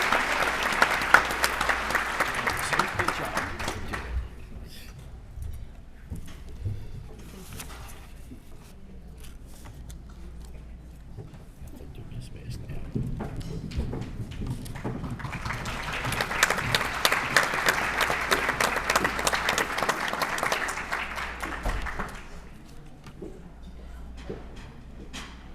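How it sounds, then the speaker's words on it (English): Banquet audience applauding at a Peanut Fest Queen's banquet in Suffolk, with two sustained rounds of clapping, a quieter lull of room noise between them, and the applause fading out near the end. "Let's give them all another round of applause"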